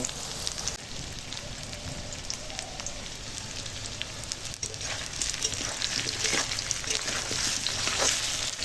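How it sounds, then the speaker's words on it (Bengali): Potatoes and onions frying in a pan on a clay stove, a continuous crackling sizzle that grows slightly louder, no voices. "আলুটা ভাজা হয়ে গেছে পেঁয়াজের সঙ্গে"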